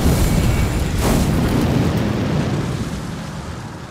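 A fire spell blast in Elden Ring, a loud roaring whoosh of flame that swells and holds before slowly fading, close and dense with no voices.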